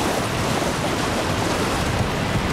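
Falling water from a waterfall in the video game Elden Ring: Shadow of the Erdtree, a steady rumbling rush with a low, surf-like roar and no voices.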